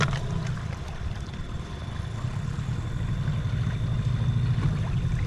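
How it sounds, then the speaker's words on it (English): A quiet outboard boat motor on a fishing outing hums steadily at low pitch, a smooth continuous drone close by with no talk over it. "Quiet motor."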